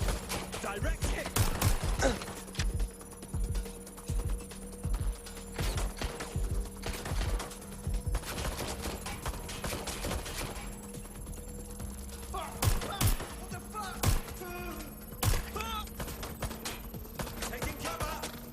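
Rapid bursts of video-game gunfire from Watch Dogs: Legion, sharp cracks coming in clusters with short pauses between volleys, loud and close, over a steady low hum and with voices calling out in between.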